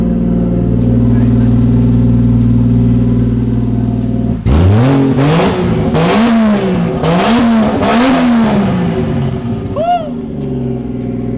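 A Toyota 1JZ engine in a Lexus IS300 idles loud and close, then blips through several sharp revs that rise and fall before settling back down.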